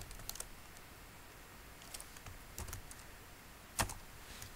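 Scattered keystrokes on a computer keyboard while code is written, a few sharp clicks and short clusters separated by pauses, close up, with one louder tap near the end and no talking.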